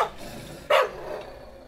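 A single short dog bark sound effect rings out once near the middle over a quiet room background.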